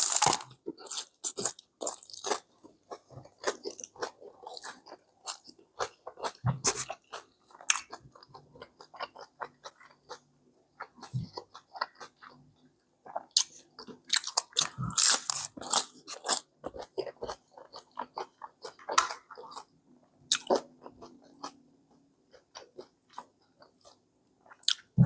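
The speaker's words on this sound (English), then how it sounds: "Hard shell shredded beef taco going in." A hard shell shredded beef taco is bitten and chewed up close, a run of loud sharp crunches and cracks followed by quieter squishy chewing, with irregular bursts over about twenty-five seconds.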